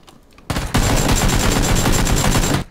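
Rapid automatic gunfire in PUBG (PlayerUnknown's Battlegrounds), a loud sustained burst of shots lasting about two seconds, preceded by a short quieter shot sound.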